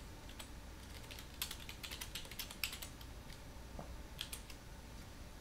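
Keys clatter on the keyboard of an old custom-built Antec gaming PC with a Pentium 4, coming as quiet, irregular bursts of clicks close by with short pauses between them and no talking.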